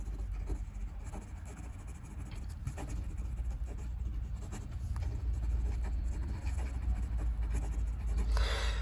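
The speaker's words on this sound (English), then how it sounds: "Let's just do some quick writing." A Faber-Castell Neo Slim fountain pen scratches across paper in a continuous, fine, dry texture of short strokes, close and fairly quiet over a low background rumble.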